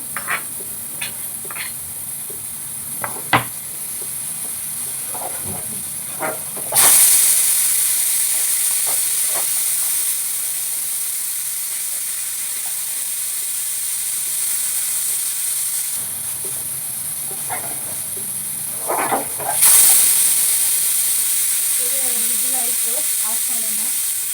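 Dal tempering (oggarane) hisses and sizzles in two sudden loud bursts, each settling into a steady sustained sizzle, with faint kitchen sounds between them.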